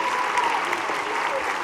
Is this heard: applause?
yes